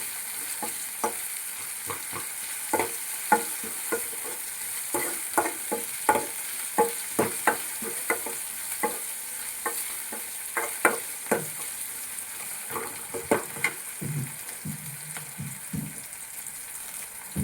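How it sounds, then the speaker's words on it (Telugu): Spices sizzle in hot oil for a rasam tempering, with a steady frying hiss under repeated sharp clicks and scrapes from stirring, close up and moderately loud, with no talking. "తాలింపులో కొంచెం వేసుకున్నాం"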